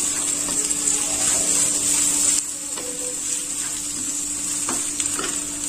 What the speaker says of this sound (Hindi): और 2 हरी मिर्च बारीक कटी हुई। इनको भी अच्छे से भून लेते हैं।